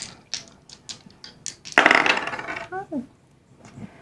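Astrology dice tossed for a tarot-style reading clatter onto a hard surface in a sudden loud rattle of several bright clicks and taps, settling over about a second, with softer handling taps before and after.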